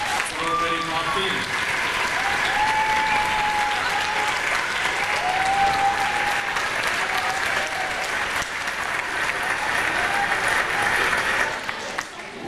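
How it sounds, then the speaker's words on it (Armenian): A school audience at a last-bell ceremony for a ninth-grade class claps loudly and continuously for the parents, a dense, sustained round of applause filling the hall throughout. "բարձր ծափահարություններ ծնողների մասին"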